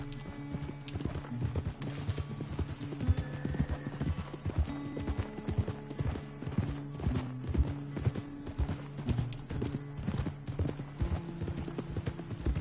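Horse hooves clip-clop steadily and fairly close as a rider travels a trail in the game Red Dead Redemption 2, a fast regular rhythm of hoof beats over low background tones, with faint voices now and then.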